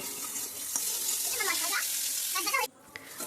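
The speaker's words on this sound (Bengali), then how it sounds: "আবার ভালোভাবে মশলার মধ্যে সব কিছুই কষিয়ে নেব" Spice masala for fish sizzles in a pan as it is sautéed with turmeric and salt, giving a soft steady frying hiss with light stirring scrapes, fairly faint and close, dropping away near the end.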